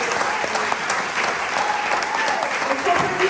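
A festival crowd at a Catholic gathering applauds to acclaim the Lord, dense, continuous clapping from many hands with faint cheering mixed in, loud and close throughout.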